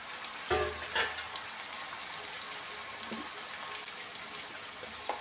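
Tomatoes and green chillies frying in a pan give a steady, soft hiss with a few sharper pops and clatters scattered throughout, close and fairly quiet, no talking.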